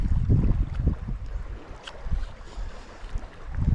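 Gusty crosswind buffeting the microphone in low rumbling bursts while shore fishing in summer, rising and falling over a continuous outdoor background.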